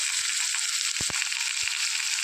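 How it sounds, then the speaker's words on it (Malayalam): Green chillies tossed into a carrot stir-fry with onion give a steady broad sizzle of hot oil, broken by a few short knocks and scrapes of stirring. "ഇതിലേക്ക് നമ്മൾ എടുത്ത് വെച്ചിരുന്ന പച്ചമുളക് ചേർത്ത് കൊടുക്കാം."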